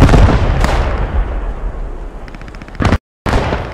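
Gunshots ring out in the video game Post Scriptum: loud, sharp cracks that come near the start, again just after, and once more close to the end, each with a rolling echo, and the sound cuts out briefly near the end.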